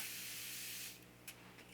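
A short hissing spray from a bottle, close and steady, ending with a couple of quick faint puffs.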